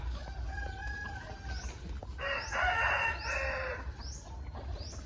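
Young roosters crow in a long, strained call over a steady, noisy farmyard background, with a few shorter clucks and chirps from chickens before and after, fairly close.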